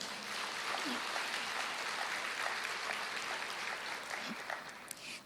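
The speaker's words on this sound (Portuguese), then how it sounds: "Vamos aplaudir ao Senhor." A church congregation claps together in praise during a Portuguese-language worship service, a steady, moderately distant patter of many hands that fills the room without a break, with a few faint voices underneath.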